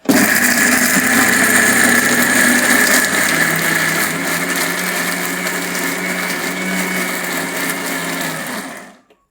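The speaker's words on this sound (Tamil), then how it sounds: "கொஞ்சம் போட்டு மூடி இப்போ மிக்சியில் கொடுத்து அரைச்சிடலாங்க" A mixer grinder whirs loudly while grinding pirandai (veld grape) chutney. Its motor holds a steady high whine for about eight seconds and then spins down to silence at the end.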